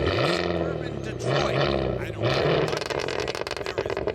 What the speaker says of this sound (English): This is the loudest car we've ever Man, listen to that sucker growl.